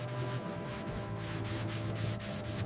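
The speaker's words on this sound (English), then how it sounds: "Hours of block sanding." Steady scratchy rubbing with a regular back-and-forth rhythm, block sanding the body of a 1970 Dodge Challenger by hand, continuous and close with no voices.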